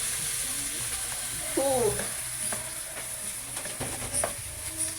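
Adobo cooking in a pan, stirred with steady scraping strokes over a continuous sizzle, close by, with a brief voice murmur in the background.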